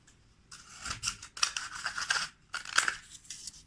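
Scissors snip lengthwise through a cardboard toilet paper roll, cutting it into strips for a zero-waste fire starter, in several close, crisp bursts of cutting with short pauses between them, heard alone.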